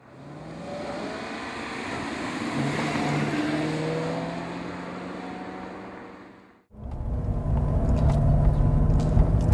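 A Maserati Quattroporte starts off on a drive, its engine revving up through rising gear tones, then a brief dip before it pulls away loud again, close and with no voices.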